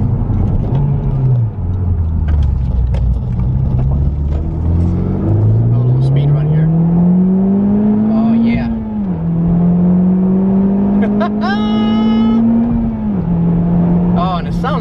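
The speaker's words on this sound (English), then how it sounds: "You end up just hearing basically what sounds like a vacuum when the turbo is really kicked in" A 2017 Honda Civic Type R's turbocharged engine accelerates steadily in a smooth rising drone with a whooshing, vacuum-like tone, loud and continuous throughout, with the pitch climbing in stages.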